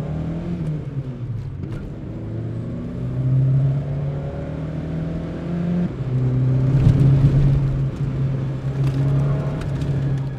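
An old, janky Volkswagen Golf project car drives around town, its engine humming and rising in revs through two accelerations, with a louder surge near the end.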